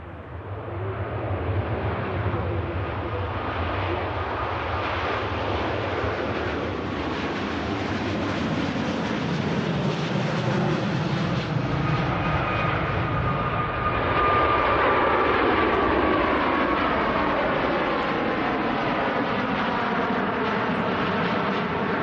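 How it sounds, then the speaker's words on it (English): A Virgin Atlantic Airbus A350-1000 on its takeoff roll at Manchester Airport builds a loud, sustained engine roar that swells and shifts in pitch as it accelerates past, with no voices heard. "Virgin Atlantic A350 1000 rolling."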